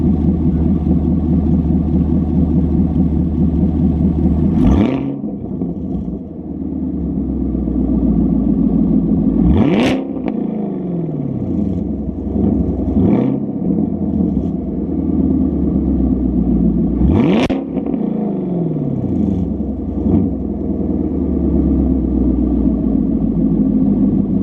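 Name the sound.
Chevrolet Camaro SS with MBRP exhaust revving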